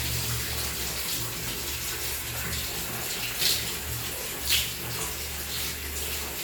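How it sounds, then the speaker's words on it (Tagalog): Tap water runs in a steady loud rush, close and continuous, with a couple of brief splashy surges as something passes under the stream; no speech. "Huwag mo patayin yung tubig"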